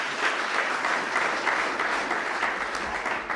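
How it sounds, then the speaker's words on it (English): Steady audience applause at a speech on an HIV/AIDS plan, a dense, even wash of clapping from a crowd, holding at a constant level throughout. "and I better get some applause."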